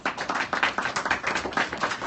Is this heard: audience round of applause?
yes